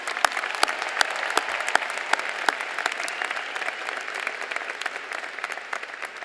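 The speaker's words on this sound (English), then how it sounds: "So at this time, I'd like to applaud the class of 2015." A high school graduation audience applauds the class of 2015, a sustained wash of clapping from a large crowd with sharp individual claps standing out, steady and fairly distant.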